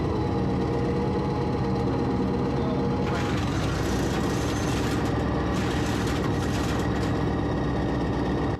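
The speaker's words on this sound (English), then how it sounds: "And the engine growls." A Ukrainian military vehicle's engine at a firing position gives a loud, continuous low growl that swells and roughens partway through and holds steady to the end.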